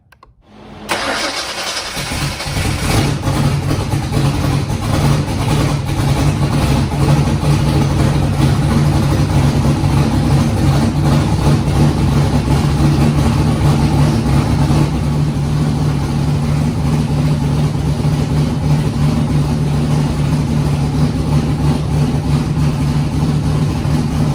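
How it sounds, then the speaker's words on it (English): A 408 V8 in a Foxbody Mustang running Terminator X fuel injection cranks and catches, then settles into a loud, steady, lopey idle that continues for over twenty seconds. "Car cranked right up and it idled great"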